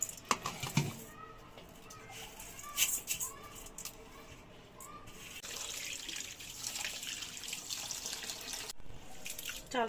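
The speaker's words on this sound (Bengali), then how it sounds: "চাল আগে ধুয়ে রাখলে অনেক ভালো হয়" Rice is rinsed by hand under a running kitchen tap, with a steady close hiss of water and splashing, occasional clinks and swishes of grains in the bowl; someone talks quietly at times.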